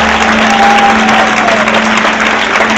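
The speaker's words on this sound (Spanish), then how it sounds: "Un fuerte el aplauso a Dios." Church congregation applauding God during a Spanish-language service, loud sustained clapping from many people with a steady low hum and a faint tone sliding underneath, continuous for the whole stretch.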